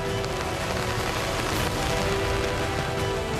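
Steady rain pattering on surfaces in Sri Lanka while palm sap collectors keep working among the palm trees, a continuous dense hiss of drops, close and even throughout with no talk.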